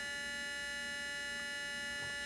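A steady, buzzy electronic tone from a 555 timer oscillator drones continuously from a speaker, constant in pitch and moderately loud, with faint handling noise near the end.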